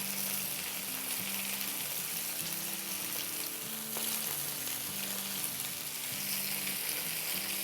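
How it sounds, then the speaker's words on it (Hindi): Chicken pieces sizzle and fry steadily in a pan just after being flipped, a dense continuous crackle with faint stirring and no voices, for a teriyaki dish. "अब हम चिकन को पलट देते हैं।"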